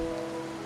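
Steady rainfall in the Wuthering Waves video game, a continuous soft patter on surfaces, brief and even with no other sounds.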